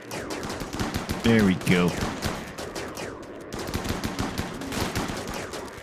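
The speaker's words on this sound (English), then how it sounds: "I think I have enough shotguns here to make quite a mess of things" Shotgun fire in the colony-building game RimWorld crackles in rapid overlapping bursts through a chaotic battle. Someone speaks briefly over the steady barrage.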